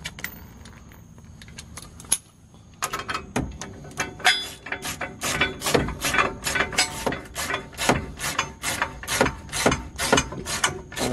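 Bolts on a Hammerhead low profile bumper being snugged up with a ratchet, a rapid series of close metallic clicks and clanks repeating in bursts, loud and without talk.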